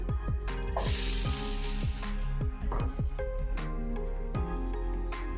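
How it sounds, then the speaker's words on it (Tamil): Onions fry in sesame oil with a continuous close sizzle, broken by frequent short scraping and shifting sounds as they are stirred in the pan. "பாருங்க வெங்காயம் ரெண்டு நிமிஷம் வதங்கி கொண்டு இருக்குது"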